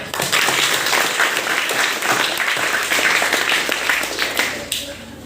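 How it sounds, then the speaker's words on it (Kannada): A crowd applauds loudly and steadily for several seconds, a dense wash of clapping that tapers slightly at the end. "ಇವರಿಗೆ ಒಂದು ಚಪ್ಪಾಳೆ"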